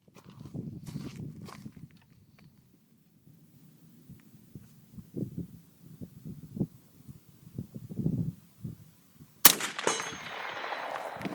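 A single sharp suppressed rifle shot at a hog, fired through a Phoenix Weaponry suppressor during a hog hunt, breaks abruptly near the end after quiet rustling and shuffling sounds, followed by a brief ringing tail.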